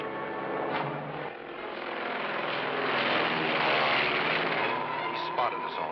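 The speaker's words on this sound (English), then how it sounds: "That plane's headed this way." A propeller airplane flies overhead in a 1966 film, a loud continuous droning engine roar that swells toward the middle and stays steady, with faint voices briefly audible.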